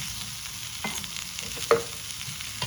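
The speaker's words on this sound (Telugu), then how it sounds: "ఎండుమిర్చి వేయించి కొంచెం లైట్గా జీలకర్ర వేసి వేయించి" Dried red chillies and cumin seeds frying in oil in a pan, a low steady sizzle with a few soft stirring scrapes and one brief sharper clink, no talking.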